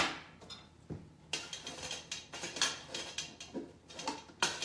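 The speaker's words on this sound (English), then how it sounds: "Mix everything up so everything's coated." Farro salad with roasted vegetables and olive oil being mixed, a spoon clinking and scraping against a bowl in repeated close, uneven bursts.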